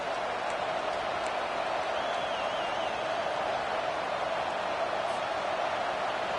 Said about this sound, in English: This crowd even louder now on second down as they try to hold on.